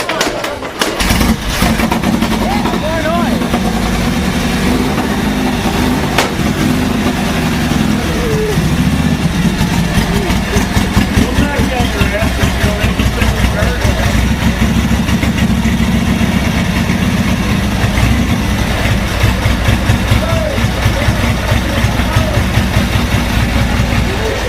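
A 100-year-old Velie car's engine runs in a steady, throbbing idle with a rapid low pulse, loud and close throughout, and voices are faintly present over it.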